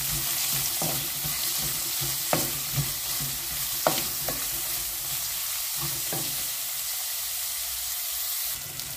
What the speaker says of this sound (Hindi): ऑनियन बरो सोते जावं दी.